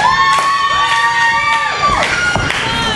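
Loud crowd at an independent wrestling show, with cheering, whoops and high-pitched shouting voices, some sounding like children, rising and falling in overlapping bursts.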